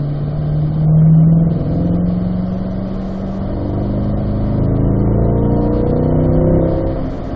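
A Chevrolet Corvette C8 drives on a racetrack at a driving school, its mid-engine note droning steadily and swelling as it accelerates and eases through a cone-marked slalom, loud and close from inside the car.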